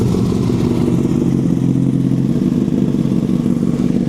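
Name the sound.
Honda CBR Fireblade motorcycle engine starting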